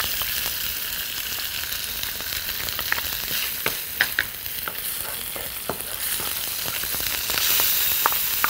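Garlic sizzles and spits in hot oil in a pan, a steady bright crackle with scattered louder pops and occasional stirring scrapes, close and continuous with no talking.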